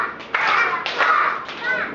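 Children singing a class warm-up song, with a few sharp group claps punctuating their voices at irregular intervals, close and fairly loud.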